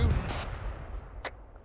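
High-explosive artillery shells fired in the ArmA 3 war game: a couple of sharp, booming reports with short decaying tails, the first heavier and a fainter one following about a second later.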